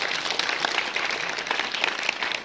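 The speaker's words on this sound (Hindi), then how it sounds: "इसके लिए भी जोरदार तालियां भाई" Steady crowd clapping at a school Independence Day celebration, a dense even wash of hands with no talking.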